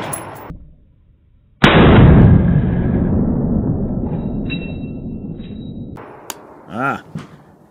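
A single loud rifle shot fired close by during testing of an adjustable gas block, a sharp blast followed by a long decaying echo, then faint clinks and brief rustling.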